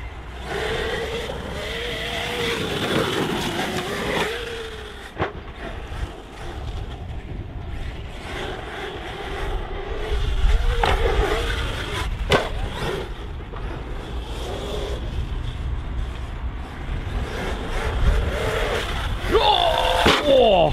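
A HaBao Hyper MT Sport Plus RC monster truck on 4S power with Proline tires drives and takes big jumps, its electric motor whining and revving in surges with landing thumps and clatter throughout.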